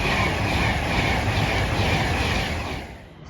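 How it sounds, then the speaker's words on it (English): An Avanti West Coast service from Carlisle to London Euston rushes loudly through Rugeley Trent Valley station, a steady roaring rumble of wheels on rails that holds strong, then begins to fade in the last moments. "here comes the delayed Avanti West Coast service from Carlisle to London Euston."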